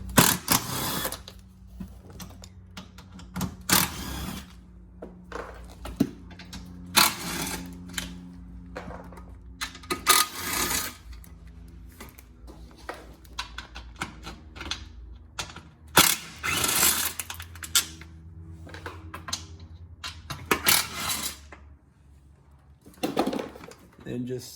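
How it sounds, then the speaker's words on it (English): Ratcheting and clicking of a 10 mm socket ratchet as it backs out skid plate bolts under a Fiat 500 Abarth, arriving in short repeated bursts with mechanical clatter, over low steady hum and frequent talk. "Just take a 10 millimeter socket to remove them."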